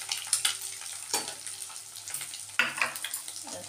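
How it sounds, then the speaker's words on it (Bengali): Leftover rice frying in a pan with egg, onion, capsicum, beans and carrot, a soft sizzle broken by repeated scraping and stirring bursts. "এখন ভাতটাকে একটু ভেজে নেবো, ডিম আলু পেঁয়াজ এই সমস্ত দিয়ে"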